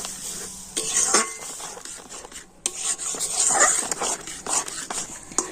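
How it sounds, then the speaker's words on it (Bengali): Semolina sweet dough being stirred and worked in a pan, with repeated scraping and rubbing strokes of a utensil against the metal, fairly close and irregular in rhythm. "এবার আমি ভালো করে নাড়াচাড়া করে একটা শক্ত ডো তৈরি করে নেব"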